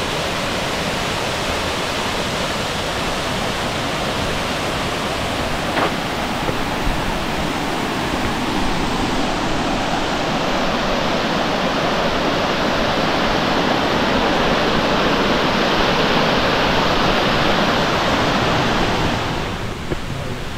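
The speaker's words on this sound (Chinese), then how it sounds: "瀑布啊，瀑布啊！" A waterfall beside the Shing Mun Reservoir trail in Hong Kong roars in a loud, unbroken rush of falling water, close and continuous, with some wind buffeting the microphone.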